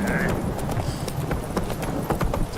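Hooves of Roach, Geralt's horse in The Witcher 3, clip-clopping at a quick steady gait, close and moderately loud over game ambience.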